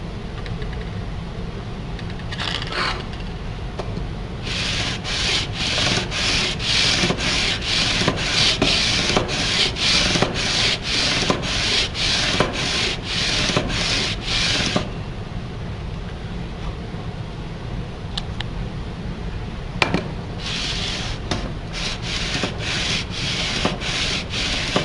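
A sanding beam rubs back and forth over metal guitar frets, leveling them in steady, rhythmic rasping strokes, a long fast run in the middle, then a few slower passes and scattered strokes near the end.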